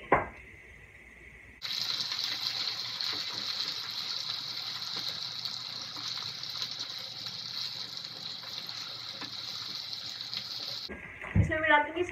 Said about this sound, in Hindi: अब मैं इसमें आलू डाल दूंगी।